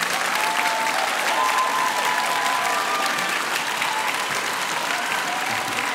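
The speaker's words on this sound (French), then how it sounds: "C'est avec un grand plaisir et sous vos applaudissements que je laisse la place à Monsieur Clément Viktorovitch" Sustained applause from a large audience at the grand final of a high-school students' eloquence contest, dense steady clapping filling the hall for the whole stretch without letting up.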